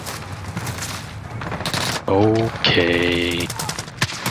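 Gunfire rattles in Call of Duty: Modern Warfare during a late-night online match, with bursts of automatic fire and sharp electronic game tones mixed in and a player talking over the action.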